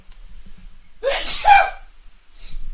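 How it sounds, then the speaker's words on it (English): A single loud, close sneeze bursts out after a quiet lead-in, followed by faint breathing. "I'm about to sneeze, I think"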